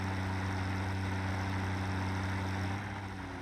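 Steady low rumble of a tractor engine in a factory-building game, a constant droning hum running throughout with little change, easing slightly near the end.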